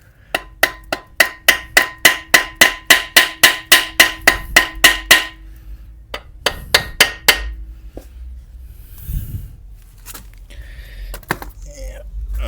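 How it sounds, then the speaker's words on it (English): Hammer blows ring out on an engine part during an STI engine teardown, about fifteen sharp metallic strikes in a fast steady rhythm, close and loud, then a few scattered knocks and clanks with faint workshop noise. "Let's see if we can't hit it with the hammer a little."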